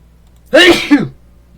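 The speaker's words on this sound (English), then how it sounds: "Bless me, I had a sneeze." A single sneeze from a person, sharp and close, with a brief burst followed by a short second exhale, then quiet.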